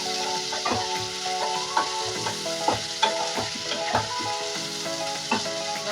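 Chopped onion fries in a pan for Patiyala chicken, a close, steady sizzle broken by frequent clinks and scrapes of a spoon stirring, with no talking.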